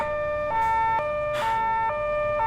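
A police car siren in a Polish video game wails in a repeating two-tone pattern, loud and close, alternating pitch about every half second.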